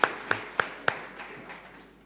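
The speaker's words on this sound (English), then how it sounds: "A round of applause, please." A few scattered claps from an audience at a university event, four sharp distinct hits in the first second, then fading into quiet room tone.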